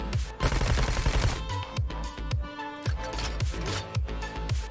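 Rapid gunfire from the Roboquest shooter video game, a dense stream of sharp shots up front, then a steady run of punchy bursts over a droning game soundtrack, loud and close.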